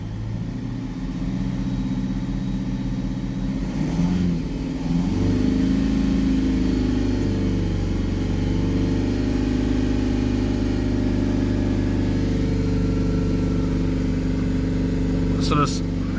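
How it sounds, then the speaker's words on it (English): A Mercedes C Class 2.1 CDI diesel engine with a differential pressure sensor fault starts and is revved, settling into a steady, loud, close drone that swells gently as the revs rise and hold for a long stretch. "let's get this car started up. So we've got 0 pressure on the DPF. Let's accelerate it up."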